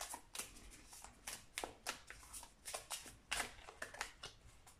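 Tarot cards being shuffled by hand, a rapid series of crisp papery riffles and flicks in irregular bursts, close and fairly quiet with no voices.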